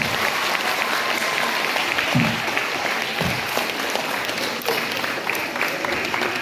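Schoolchildren applaud in a school hall, a steady crowd of clapping filling the room throughout, loud and dense, with a few voices faintly underneath.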